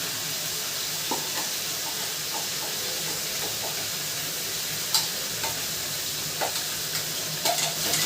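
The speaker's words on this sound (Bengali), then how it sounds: "মাংস তো দিয়ে দিয়েছি আগে তেলের উপরে, আমি মাংসটা আগে দিই তেলের উপরে" Chicken sizzles steadily in hot oil for homemade chicken biryani, a loud continuous frying hiss broken by a few light stirring clinks.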